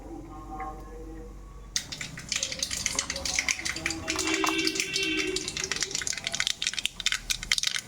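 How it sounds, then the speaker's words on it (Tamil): Mustard seeds and urad dal hit hot oil in a pan and break into a dense, close crackle and sputter of rapid pops that keeps going after a quiet start, with faint speech in the background. "கடுகு நல்லா பொரிஞ்சிருச்சு"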